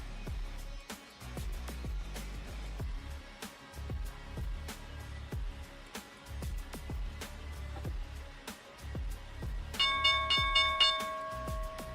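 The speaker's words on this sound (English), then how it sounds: "there's the bell" A stock market opening bell rings out as a bright, sustained metallic tone over a busy background of clatter, entering near the end and holding steady.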